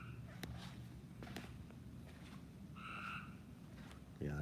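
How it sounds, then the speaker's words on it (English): A frog croaks just outside a door near a garage, giving a couple of faint, brief calls over a steady low background hum, with soft scattered knocks and shuffles. "Yeah, that frog's right outside the door"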